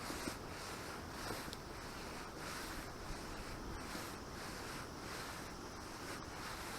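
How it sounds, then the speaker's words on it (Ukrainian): Continuous wind gusting and buffeting onto a footbridge at the water's edge, a steady rushing roar with rhythmic surges and no voices. "Вітер посилюється в нас."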